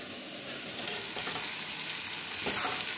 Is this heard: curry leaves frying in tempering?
yes